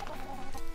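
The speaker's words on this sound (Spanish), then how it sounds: "tiene gallos finos para peleas y gallinas." A rooster clucks briefly at a rural village farmyard where fighting cocks and hens are kept, a short, close run of throaty clucks over low background noise.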